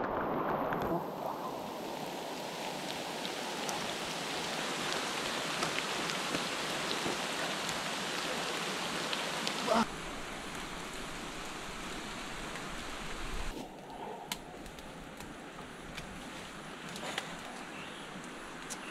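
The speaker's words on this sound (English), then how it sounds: "Now that this rain has stopped" Steady rain pours down outdoors at a wilderness survival camp, a dense, continuous hiss of drops hitting surfaces that holds at an even level throughout, with a brief shift in texture partway through and no talking.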